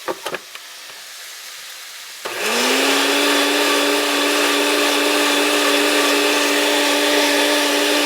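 A blender whirs loud and steady, purees a ginger mushroom sauce base toward a smooth, creamy texture; after a few quiet taps, the motor kicks in and runs continuously to the end.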